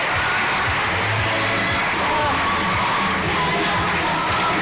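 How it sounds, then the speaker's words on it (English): An audience at a national science and technology exhibition cheers and whoops loudly, a dense, sustained roar of a large crowd with children's shouts mixed in. "Round of applause all the way from Mombasa"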